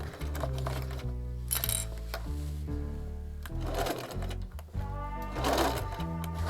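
A sewing machine runs steadily as it stitches rain cape fabric, its fast mechanical whir continuing close and loud with brief changes in speed.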